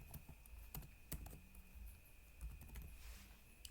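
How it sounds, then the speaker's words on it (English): Someone types a table name into Microsoft Access on a computer keyboard, giving quick, light clicks in irregular bursts. The sound is faint and close, with nobody talking. "here is where you type the table name"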